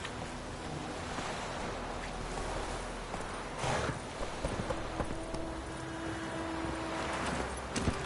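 The horse Roach trots in Witcher 3, hooves clopping at moderate volume over a wash of wind and water ambience, with faint game background sound.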